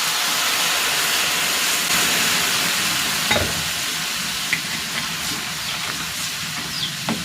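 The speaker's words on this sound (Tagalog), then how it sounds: "Ibubuhos ko na dito itong gata." Coconut milk is poured into a pot with sugar for sweetened saba banana with sago, making a continuous broad hissing rush with a few faint clicks and knocks scattered through it.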